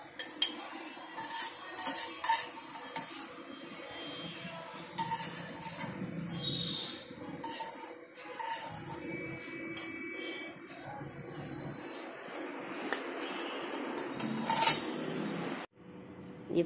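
Fried green chillies lifted out of the pan onto a plate bring scattered utensil clinks and scrapes against metal and crockery, close and uneven over a soft background hiss, with no voices.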